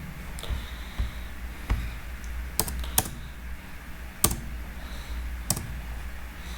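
Fingers type on a computer keyboard close by, with irregular clicking keystrokes and a few sharper, louder key presses spaced across the passage.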